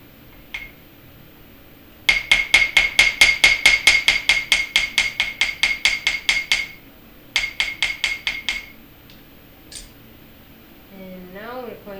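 Rapid, bright metallic hammer taps flatten a wire heart pendant on a hard block, a fast run of about twenty strikes, a short pause, then another quick burst, close and loud with faint room noise between.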